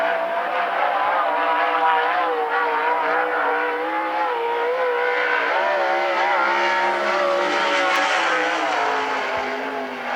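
Sprint car on a qualifying lap at the Central Washington State Fair's Western Sprint Tour, its engine roaring loud and steady throughout with shifting revs as it circles the track, near and continuous.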